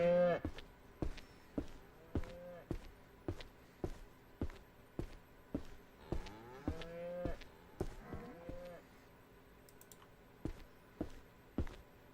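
Cattle in Ranch Simulator moo repeatedly, several drawn-out calls overlapping near and far, over a steady run of soft rhythmic footstep-like thuds.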